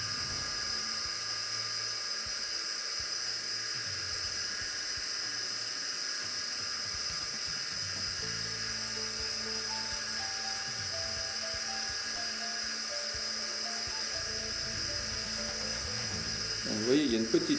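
A Double Horse 9074 RC helicopter's rotors spin with a steady, high-pitched electric whine and whir, held close and loud throughout, with a brief rattling burst at the end.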